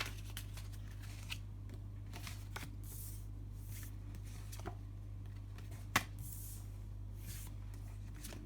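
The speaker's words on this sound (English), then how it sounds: "one more shuffle and we are good" Tarot cards being shuffled by hand, soft quiet riffling and flicking bursts scattered at irregular intervals over a steady low hum, with one sharper snap near the middle and no talking.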